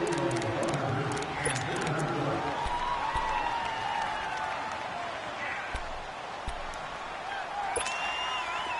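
Stadium crowd noise from a PS4 football video game swells as a broad, steady roar, loud and continuous, with sharp clatter-like accents, while a commentator talks over it throughout.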